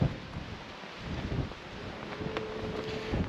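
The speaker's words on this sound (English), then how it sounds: "waiting for the wind to die down, but that's not gonna happen, is it?" Steady wind buffets an outdoor microphone on an Idaho off-road trail, a continuous low rumbling roar with gusty swells throughout and no talk.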